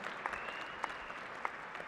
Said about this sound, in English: Let's give her a big round of applause, along with Dr. Christopher Morehouse